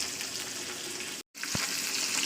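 Fish frying in a pan in a home kitchen, a steady broadband sizzle with a brief dropout partway through, then a soft thump before the frying hiss resumes.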